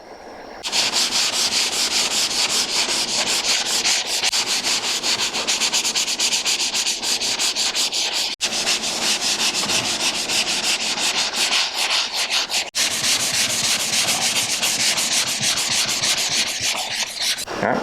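Drywall joint compound ridges are sanded by hand in steady, continuous back-and-forth scraping strokes, close and loud, with two brief pauses and no talking.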